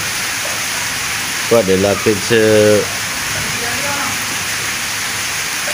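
Steady hiss of heavy rain in a village in Punjab, Pakistan fills the whole clip, with a person speaking briefly over it partway through.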